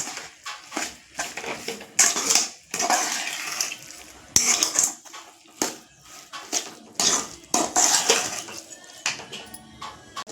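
Sugar being stirred into carrot halwa in a pan, with repeated scraping and clattering strokes of a spoon against the pan that come in uneven bursts, close and moderately loud.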